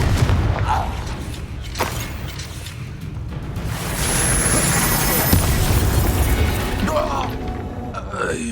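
Confringo, the explosive fire spell in Hogwarts Legacy, goes off as a rumbling blast with a whooshing burst amid busy combat effects, rising and sustained for several seconds.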